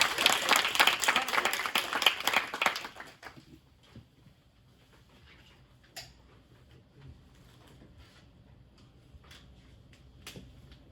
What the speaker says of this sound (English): So one more round of applause for them again.